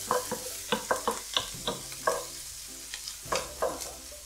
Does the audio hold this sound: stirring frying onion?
yes